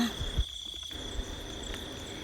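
Field crickets chirp at night in open farmland, a steady high-pitched trill holding throughout, with a few soft low thumps nearby.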